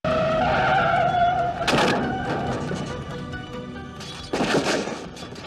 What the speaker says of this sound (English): a truck is barreling down on him